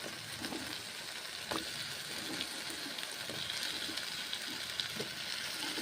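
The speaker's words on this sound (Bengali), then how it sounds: "মূলগুলো কড়াইয়ের মধ্যে ছেড়ে দিচ্ছি" Radishes fry in a wok with a faint, steady hiss of sizzling oil and occasional soft crackles, with no talking over it.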